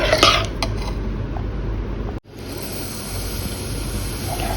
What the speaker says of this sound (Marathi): हे चांगलं आपल्याला मिक्स करून घ्यायचं आहे. आणि थोडंसं पुरण घट्ट होईपर्यंत हे शिजवून घ्यायचं आहे.